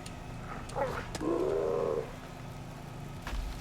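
A dog companion in the video game Pathfinder Kingmaker gives a single drawn-out growling bark or whine, loud and alone over quiet game background.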